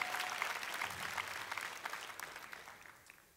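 Congregation clapping during a church sermon, a dense wash of applause that holds steady and then gradually fades, with no speech over it.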